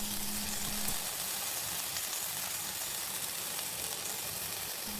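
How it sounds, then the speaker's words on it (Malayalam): Pieces of bitter gourd fry in hot coconut oil, giving a steady, even sizzling hiss that carries on unbroken with no talk over it. "എണ്ണ ചൂടാകുമ്പോൾ അതിലേക്ക് നമ്മൾ പ്രിപ്പയർ ചെയ്ത് വെച്ച പാവയ്ക്ക കഷ്ണങ്ങൾ ചേർത്ത് കൊടുക്കാം"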